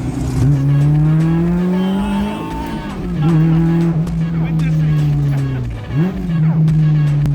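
A Honda Civic accelerating hard: a loud, close engine drone climbing steadily in pitch, dropping briefly at gear changes around the third and sixth seconds before surging again.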